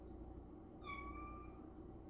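A pet cat gives one short, faint meow, alone over a steady low room hum.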